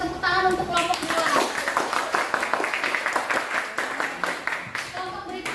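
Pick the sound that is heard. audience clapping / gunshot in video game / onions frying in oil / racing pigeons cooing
audience clapping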